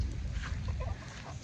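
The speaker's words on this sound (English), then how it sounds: "I gotta catch a chicken." Chickens cluck in a brief burst outdoors near a Georgia lake, several close, soft clucks over a rumbling, noisy background.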